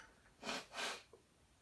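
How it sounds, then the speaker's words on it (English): Two forceful nasal blows, each about a third of a second, with a brief sniff afterward, close and fairly loud in a quiet room. "I'm going to blow my nose"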